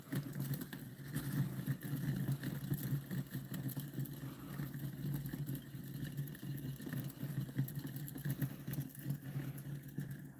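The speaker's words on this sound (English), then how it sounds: "It is a pulse motor though." A small battery-powered pulse motor with a magnetically levitated magnet rotor runs steadily, giving a faint, fluttering mechanical whir with rapid repeating pulses close by.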